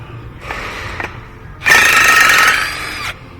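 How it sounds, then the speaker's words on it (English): Power tool, likely an impact driver or drill, spinning out 13 mm bolts on the front brake assembly of a 2018 Ford Transit, with two short whirring bursts followed by a louder, longer run close by. "now we're going to take a 13 millimeter and pull these other bolts"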